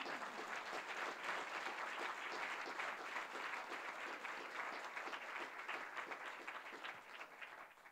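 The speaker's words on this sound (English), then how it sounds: "you can have your round of applause" An audience at a Nordic panel discussion on the UNESCO 2003 Convention gives a sustained round of applause, dense and even clapping from a roomful of people that tapers slightly toward the end.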